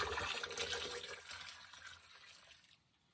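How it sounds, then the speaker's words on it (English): Hot distilled water pours into a container, a steady liquid splash and trickle that fades out toward the end, quiet and close with no talk. "So I like to pour it off in this container to capture the silver."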